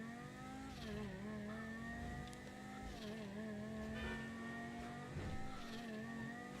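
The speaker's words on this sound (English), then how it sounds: "So apparently this is the new fastest car in the game." The fastest car in a racing video game, its engine droning at a steady high pitch with shifting revs and brief tire squeals, fairly close and unaccompanied by speech.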